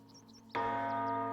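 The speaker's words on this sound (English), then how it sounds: "Oh, can I sound the bell?" A bell tower bell is struck once in the video game Baldur's Gate 3, a loud, sudden clang that rings on with a sustained, humming tone; a few faint chirps sound before it.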